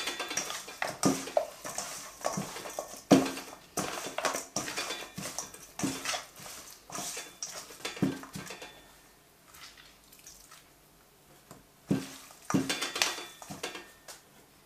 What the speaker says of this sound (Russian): Хорошо все перемешиваю.